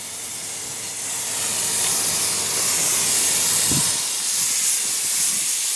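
Spray paint hisses steadily onto the body of a 1949 Chevrolet, laid over Bondo and rust, as a loud, continuous, close airy spray with no talk.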